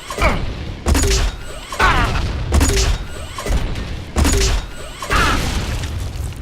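Weapon alternative fire in the pre-alpha Unreal Tournament video game: a series of heavy booming blasts, each roughly a second apart, loud and close with rumbling tails between them.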